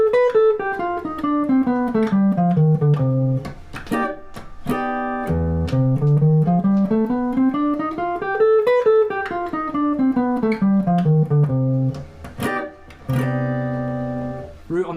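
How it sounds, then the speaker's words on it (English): On guitar, the C melodic minor scale is played from a root on the sixth string. Clear single notes climb and descend in an even, steady rhythm, loud and close, with no talking. "So the C melodic minor with the root on the 6th string sounds like this."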